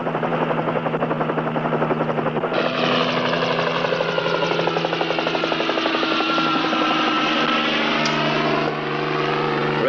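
A helicopter's rotor thumps steadily and loudly throughout, with the engine whine growing fuller partway through as it passes close by.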